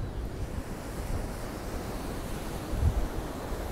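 Sea waves at Blackpool on a windy day surge and wash in a constant roar, with wind buffeting the microphone in low rumbling gusts and one stronger thump near the end.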